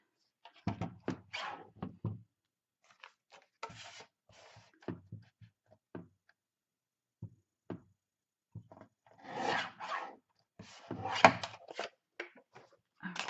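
Journal pages being trimmed close by: scattered short scraping and rubbing bursts with quiet gaps, sparse at first, then longer, louder strokes in the second half, with no talking.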